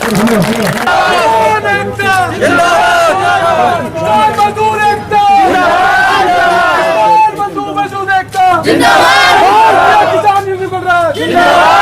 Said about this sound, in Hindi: जोरदार तालियों से, जोरदार नारों से उनका स्वागत करें।